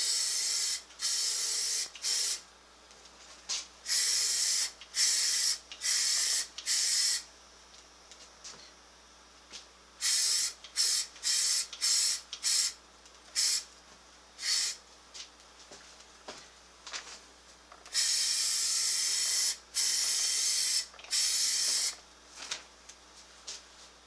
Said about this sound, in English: to prime it, I'm using the Rust-Oleum Clean Metal Primer, because I've taken care of all the rust.